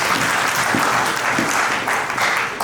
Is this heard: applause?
yes